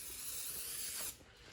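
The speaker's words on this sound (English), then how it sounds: "We're gonna spray this side with some canola oil," Canola oil spray hisses from a can onto breaded fish before air frying, a steady soft hiss lasting about a second before cutting off, close and quiet.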